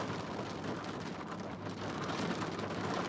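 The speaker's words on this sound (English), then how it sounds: "real heavy rain." Heavy rain pouring down during a severe thunderstorm in Oklahoma, a steady dense broadband hiss that stays loud and unbroken throughout with no voices.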